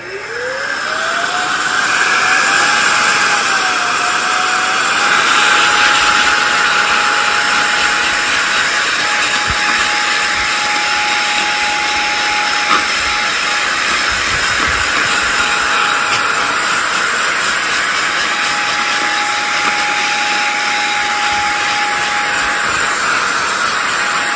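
A Roedix electric air duster spins up with a rising whine and then blows a loud, steady hissing jet of air with a constant high tone, held close for over twenty seconds.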